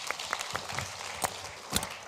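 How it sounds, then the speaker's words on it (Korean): Scattered, sparse hand clapping from a small forum audience welcoming a lecturer, a handful of distinct claps over about two seconds at moderate distance. "자, 박수로 모시겠습니다."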